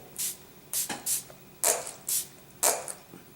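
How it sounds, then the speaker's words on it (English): Several short hissing bursts of MAC Fix+ setting spray misting onto a face, spaced irregularly, close by and fairly loud, with quiet pauses between them. "I'm going to set this with my MAC Fit Spray"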